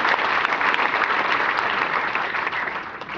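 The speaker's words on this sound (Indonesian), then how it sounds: "Beri tepuk tangan yang meriah." A church congregation gives loud, sustained applause during a sermon, dense clapping from many hands that carries on steadily and then eases slightly at the end.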